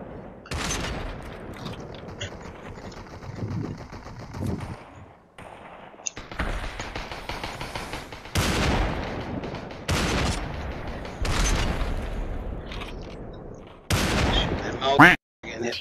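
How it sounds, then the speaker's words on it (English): Bursts of gunfire crack out in the VR battle royale Population One, several loud volleys and rapid strings of shots with short gaps between them, some close and sharp, others more distant. "Oh, somebody's firing from the tower side at us."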